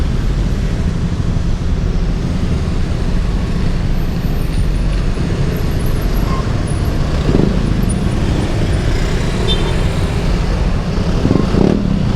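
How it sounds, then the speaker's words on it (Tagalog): Dense road traffic of cars and motorcycles rumbles continuously and loudly, a steady broadband roar with occasional engine swells and faint higher whines passing through, and no voices. "Kasi medyo traffic na ngayon."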